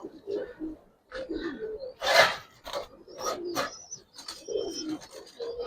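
Giribaz pigeons coo in a run of soft, throaty calls. One louder burst comes near the middle and the calls pause briefly in between, with no talk.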